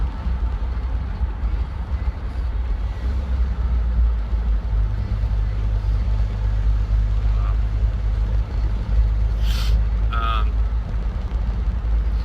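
Deleted Ram 2500 Cummins diesel truck hauling a load on the back, with a steady, loud low engine drone and road rumble running throughout, close by from inside the cab.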